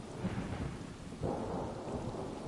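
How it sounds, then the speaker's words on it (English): Thunder rumbles over steady rain falling outside in the video game Stray, a low rolling boom swelling midway under continuous rain hiss, no talking. "And it's raining outside."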